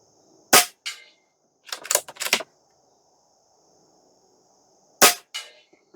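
A Stoeger XM1 Scout airgun fires at a 50-yard target, giving sharp, isolated cracks: one shot, a tight cluster of three, then another after a long pause, each with a brief ringing tail over near silence.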